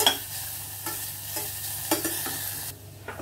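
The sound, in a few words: onions frying in a pan for biryani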